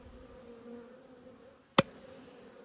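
Honeybees gather at a hive entrance, their faint, steady buzzing hum broken once by a single sharp click partway through.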